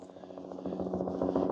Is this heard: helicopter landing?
yes